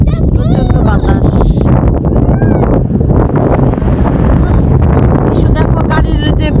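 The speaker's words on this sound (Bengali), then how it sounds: "প্রচন্ড বাতাস" Strong wind roars continuously across the microphone outdoors in South Africa near a parked car, a loud, rumbling buffeting that never lets up while people talk throughout.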